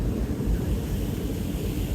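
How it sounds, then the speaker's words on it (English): Beer fizzes loudly in a plastic cup just after being poured, a dense steady crackling hiss up close with no talking over it. "super fizzy loud, real loud fizzy."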